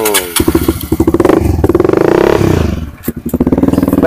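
A motorcycle engine revs hard and close, its throbbing pulses rising and falling, with a sharp clatter near the end before it revs again.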